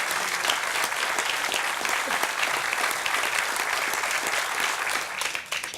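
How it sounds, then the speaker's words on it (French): Audience applauds a performing team at a firefighters' association event, a dense, steady round of clapping that carries on for several seconds before thinning at the end. "Poulette Chacamanan, on peut les applaudir."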